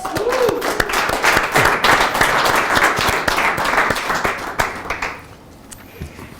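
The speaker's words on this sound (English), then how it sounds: "let's give Shawn a big round of applause and a congratulations" An audience at a business fireside chat gives a round of applause, many hands clapping loudly and steadily before tapering off to a few scattered claps near the end.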